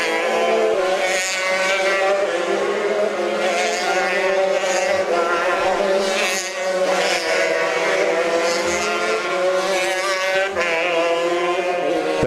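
Shifter and X30 racing karts scream past on a track during a main event, their high buzzing two-stroke engines layered and constant, rising and falling as they pass close by, with no talk.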